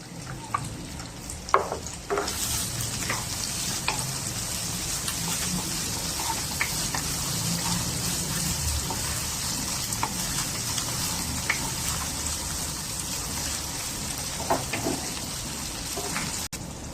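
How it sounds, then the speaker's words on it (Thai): Ginger stir-fries in a pan for cockles with garlic, giving a continuous dense sizzle like rain on a surface. Intermittent clinks and scrapes of a spatula punctuate it, close and steady, with no talking. "ใส่ขิงก่อนนะคะ ผัดขิงให้หอมก่อนแล้ว"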